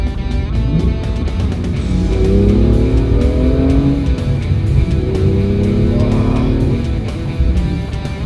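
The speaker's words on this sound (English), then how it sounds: "That shift, downshift, those aggressive shifts." A BMW M2 manual sports car engine revs hard, climbing in pitch, then drops as a gear shifts, and rises again in a loud, aggressive run.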